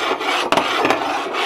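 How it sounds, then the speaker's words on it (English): Meat hammer scraping and rasping across the surface of a Blue Diamond pan, a dense abrasive grinding that holds steady for about a second and a half, with two brief harder scuffs near the middle. "This is a meat hammer."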